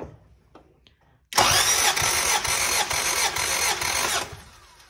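Car engine cranking over during a wet compression test, with oil added to cylinder one: a loud, rhythmic starter churn begins abruptly, pulses steadily for about three seconds, then stops.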